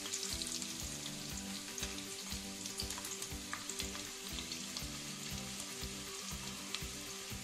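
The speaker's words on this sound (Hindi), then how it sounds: "प्याज को ब्राउन होने तक हम तलेंगे।" Onions fry in ghee in a kadai with a dense, steady sizzle and crackle close up, with low rhythmic pulses underneath and no talking.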